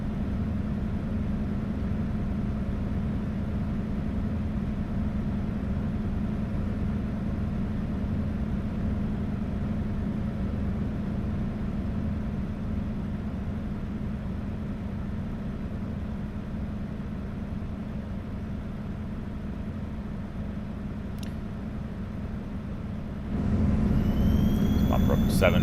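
A Freightliner Cascadia truck engine idles in American Truck Simulator at about 1,300 RPM, a low, steady drone with a faint turbo hiss, growing slightly louder near the end; a voice talks over it.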